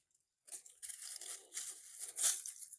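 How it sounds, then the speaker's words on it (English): Aeonium succulent roots being pulled and torn away by hand, a few close, dry tearing and crinkling bursts in quick succession, with one sharper rip near the end. "just pull out the roots so I've got the space"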